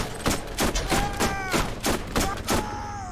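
Gunfire in the Borderlands video game: rapid, dense volleys of close, loud shots in quick repeated bursts, with chirping weapon effects running through them.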